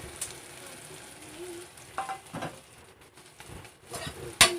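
Maggi noodles cooked without egg, stirred in a pan with added spices: a low sizzle broken by several scraping stirs and a sharp clack near the end, close but fairly quiet, with a soft voice now and then.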